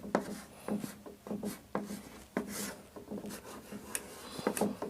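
Writing on a board during a maths lesson gives a run of scratchy, rubbing strokes with short taps between them, fairly quiet and close, with no talk.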